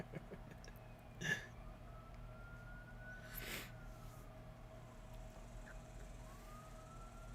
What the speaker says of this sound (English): can y'all hear that siren?